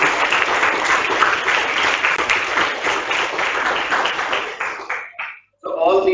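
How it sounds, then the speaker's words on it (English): An audience at a zonal quiz competition applauds the team, a sustained burst of clapping from many hands that fades out near the end before a voice begins talking. "Huge round of applause for the team."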